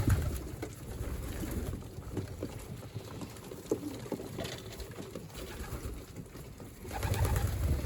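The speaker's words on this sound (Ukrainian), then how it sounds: "По голубочках наших, да?" Pigeons cooing in a loft, soft low calls over a constant rustling background.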